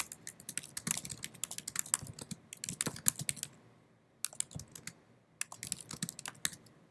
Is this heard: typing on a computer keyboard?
yes